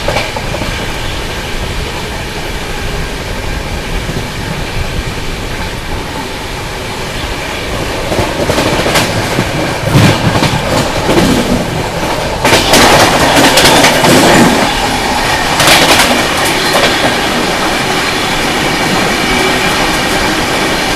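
The Duronto Express, India's fastest train, runs on the Mumbai Central to Nizamuddin line with a loud, continuous rumble of wheels on rails and bursts of clattering over joints, heard from inside.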